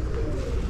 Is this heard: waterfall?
no